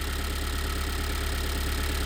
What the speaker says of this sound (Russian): Вон прямо аж с глубины слышно этот глухой стук.